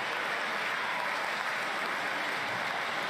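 An audience claps, a dense even wash of many hands, steady and fairly loud throughout with no break and no talk.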